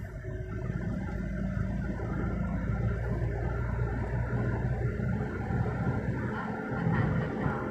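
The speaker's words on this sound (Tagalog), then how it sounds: "Pakinggan mo yung tunog ng makina mo." A car engine hums steadily from inside the cabin during a driving lesson, a low, even rumble that holds at moderate volume throughout, with no voices.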